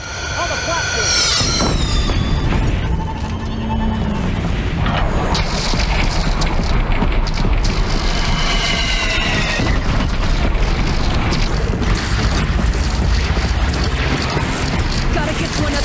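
Cannon fire from a platform during a battle in the video game Horizon Zero Dawn, with loud repeated booms and crashes over a dense, continuous combat mix, and voices talking throughout.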